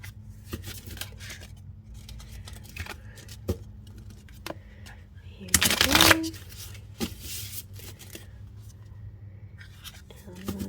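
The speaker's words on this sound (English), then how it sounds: "Let's give it a good shuffle" A deck of tarot cards riffled and shuffled with a loud burst of flapping in the middle, softer handling and tapping around it, over a low steady hum.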